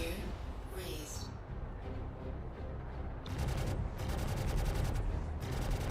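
Turret gunfire striking a ship in a video game during an afterburner escape, rapid rattling bursts that grow denser and louder midway, under a low engine roar with talking over it.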